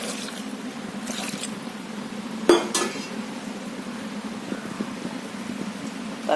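A metal lid settles onto a pot of sambar holding drumsticks and okra with one sharp clank in the middle, amid faint kitchen rustling and soft clinks.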